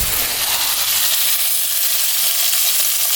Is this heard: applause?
no